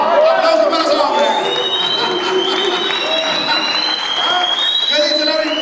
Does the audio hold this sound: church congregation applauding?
yes